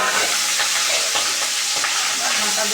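Small tangra fish fry in hot oil, giving a dense, continuous sizzle with scraping stirs breaking through now and then, close and loud throughout.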